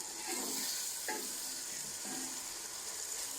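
Masala and chicken fry in oil with a constant, fairly faint sizzling hiss, broken by a few soft stirring scrapes at a slow, irregular pace.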